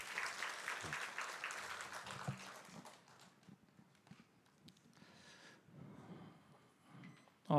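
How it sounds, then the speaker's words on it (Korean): A church congregation claps together during a Sunday worship service in Korea, offering consolation to a bereaved family. The applause is fairly soft and distant, strongest at the start, then thins into scattered claps and room noise. "우리 위로의 박수 하십시다"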